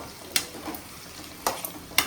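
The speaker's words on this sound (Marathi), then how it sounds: "कांदा टाकलेला आहे. आता सोया सॉस टाकले. पहिले तर फ्राय करून घे." Chopped onion frying in a pan for homemade chilli, a soft steady sizzle broken by three sharp scraping stirs spaced through the short stretch, close and fairly quiet.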